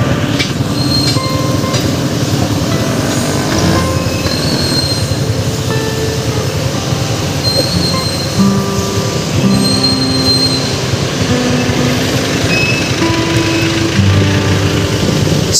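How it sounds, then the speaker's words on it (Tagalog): A PNR train passes along the rail track, a loud, continuous rumble of rolling cars with wheel squeal and metallic screeching running the whole time, close by. "At nandito tayo ngayon sa may rail track ng PNR. So pag may dumaan na tren, alis na tayo."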